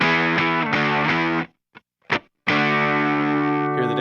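A loud distorted electric guitar chord voiced with root, fifth, octave and an added third is struck in quick repeated strums and then rings out, then drops to near silence with a couple of brief muted scrapes before a sustained chord crashes back in.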